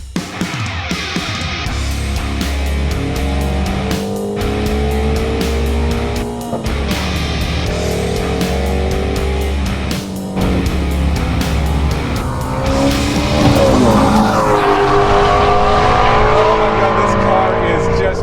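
A Ford Mustang Shelby GT350 roars around a race track, its engine loud and sustained as it climbs through the gears with a few brief shifts, while people talk excitedly over the noise.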